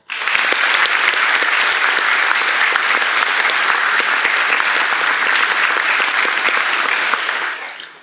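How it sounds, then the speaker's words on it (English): A crowd at a police academy graduation ceremony applauds steadily and loudly for about seven seconds before the clapping fades out. No voices are heard over it. "I think they deserve a well-earned round of applause"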